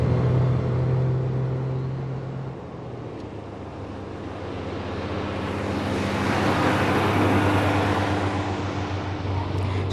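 A 1930 Austin car cruises at 40 mph in top gear, its engine a steady low drone under loud rushing wind and road noise that swells toward the end, with no talking.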